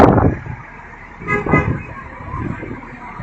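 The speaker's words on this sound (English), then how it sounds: "The official honk means the parade is about to start." A decorated police car at a Memorial Day parade sounds its horn in a couple of loud, close honks over a steady rumble of engines and crowd noise.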